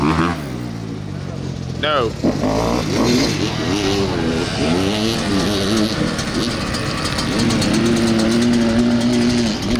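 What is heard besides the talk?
dirt bike with aftermarket exhaust pipes revving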